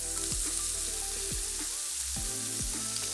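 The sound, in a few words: chopped bacon and sun-dried tomatoes frying in olive oil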